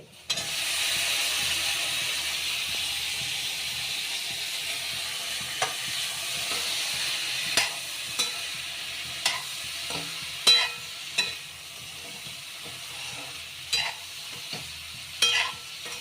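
Brinjal pieces hiss and sizzle in a hot pan for a lentil vegetable dish, a steady fry backed by repeated clacks and scrapes of a spoon stirring, close and clear without talk.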